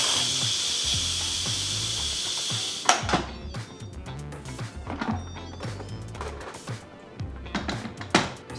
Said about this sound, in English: we're gonna release any remaining pressure